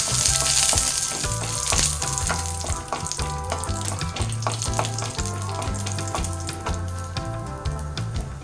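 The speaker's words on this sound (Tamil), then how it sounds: "இப்போ முந்திரியும் திராட்சை வறுத்தலாம்" Cashews and raisins sizzle and crackle in hot ghee, a close, continuous frying hiss with occasional stirring clicks over a low background hum.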